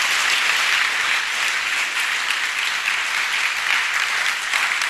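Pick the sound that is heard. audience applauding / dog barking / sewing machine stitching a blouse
audience applauding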